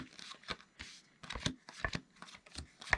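Playing cards flicked off a deck one at a time into four piles, a quick run of crisp papery snaps and slides, close and clear with short pauses between them.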